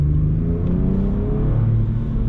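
A Ford Ranger Raptor pickup's engine revs close by, a deep, steady rumble with rising harmonic sweeps that holds loud and continuous throughout.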